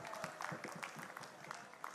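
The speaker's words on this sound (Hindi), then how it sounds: "अगर प्रस्तुति पसंद आई हो तो तालियां भी बजाइए" Audience applause and scattered clapping at a medical college fresher party, a dense, steady patter of many hands across the whole stretch, with some crowd noise mixed in.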